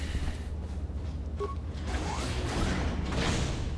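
A faulty door in Knights of the Old Republic gives off mechanical creaks and whooshing scrapes, a few brief squeaks over a constant low hum, moderately loud and with no voices.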